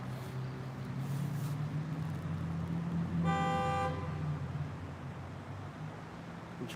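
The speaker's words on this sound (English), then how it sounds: "Just heard a car honk." A car horn honks in a single sustained blast amid steady traffic rumble on a road, fairly clear over the background hum, then the street noise carries on.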